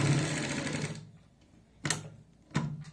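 Sewing machine stitching the edge trim of a kurti collar: a close whirring run of rapid stitches that stops, followed by two short separate bursts of stitching.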